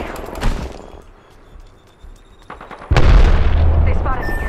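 Gunfire rattles through an Apex Legends firefight: sharp shots and booming impacts come in bursts, then a loud sustained barrage takes over for the last stretch.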